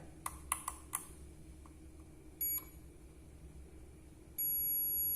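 Multimeter continuity tester beeping while probing a TV power supply board: a few short sharp beeps early on, then two sustained tones, one brief and one longer at the end, over a quiet background.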